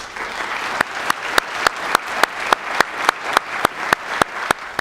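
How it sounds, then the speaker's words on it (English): An audience at a student writing event applauds, producing a continuous wash of clapping with a few sharp, evenly spaced louder claps standing out in a steady rhythm. "Let's give these students a round of applause."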